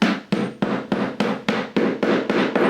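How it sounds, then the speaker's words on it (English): Galvanized nails are hammered into a wooden exterior door threshold, about nine sharp, evenly spaced hammer strikes ringing close and loud with no talk. "we're going to go ahead and nail this down"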